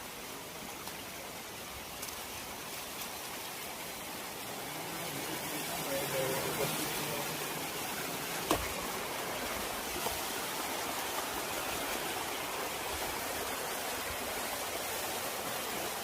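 Broad, steady rush of rainwater flowing down a hillside stream at Horsley Hills fills the clip, constant and fairly loud, with a faint voice and a brief knock partway through.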